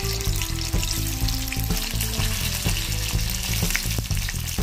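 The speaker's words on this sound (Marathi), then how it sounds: "यामध्ये आता आपल्याला पनीरचे तुकडे हे थोडेसे फ्राय करून घ्यायचे आहे" Paneer pieces fry in oil in a kadhai, giving a loud, dense, continuous sizzle up close with rapid rhythmic clinks and scrapes of stirring throughout.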